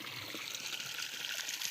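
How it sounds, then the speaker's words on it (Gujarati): Water runs from a leak in an outdoor supply, a faint, steady rushing trickle that holds evenly throughout the brief moment, with nothing else standing out. "જો પાણી ચાલુ છે"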